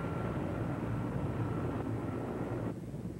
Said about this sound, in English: The helicopter has the obvious advantage of traveling above any kind of terrain.